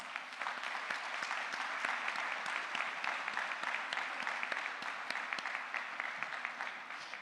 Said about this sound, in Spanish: vale la pena que le demos un aplauso